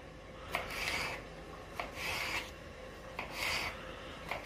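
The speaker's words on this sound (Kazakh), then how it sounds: "Осыдан кейін болгарский перецімізді турап бастаймыз." Bell pepper being cut into small cubes on a board for lagman: a steady rhythm of rubbing, scraping knife strokes with brief sharp contacts, close and fairly quiet.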